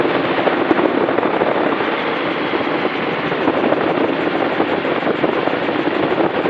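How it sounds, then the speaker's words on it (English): A Magni M16 tandem gyroplane comes in to land, its engine and rotor making a loud, steady, rushing drone that holds even throughout, close and continuous, with no speech. "I'm landing just like an airplane with the crosswind control"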